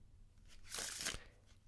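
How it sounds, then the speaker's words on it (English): A deck of playing cards is riffle shuffled close up, a quiet flurry of fluttering card edges that swells and fades within a second or two, with no voices. "You can do any false shuffles, like a riffle shuffle that keeps their card on the bottom."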